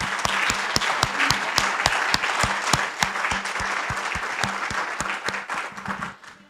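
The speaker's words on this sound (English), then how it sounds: "Let's give her a round of applause," An audience applauds at a business meeting, a steady room-filling patter of many hands clapping, with a few sharp, prominent claps standing out, fading slightly toward the end.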